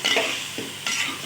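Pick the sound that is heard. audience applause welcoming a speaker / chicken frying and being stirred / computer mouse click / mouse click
chicken frying and being stirred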